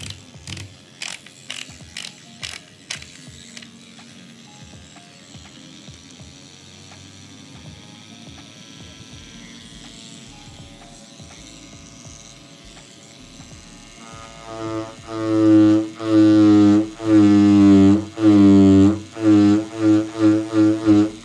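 A TEZLA wireless tattoo pen switched on gives a rapid ratcheting mechanical buzz after some faint clicking, then a loud pulsing motor hum rising and falling in regular bursts toward the end.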